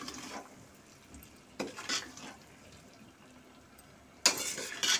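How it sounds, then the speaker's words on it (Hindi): Gooseberries (amla) being stirred in a pot, with scattered scrapes and knocks of a spoon against the vessel over a low background, including a couple of louder clattering bursts near the start and end. "और इसे मिक्स कर लूंगी आंवले को अच्छे से"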